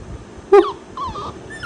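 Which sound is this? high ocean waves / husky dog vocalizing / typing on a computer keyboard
husky dog vocalizing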